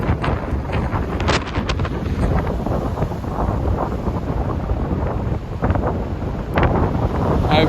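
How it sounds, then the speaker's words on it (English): Strong gusty windstorm roaring across the English Bay seawall, with heavy wind buffeting the microphone and surf crashing in the background, continuous and loud with no talking. "I'm here in English Bay and it's blowing."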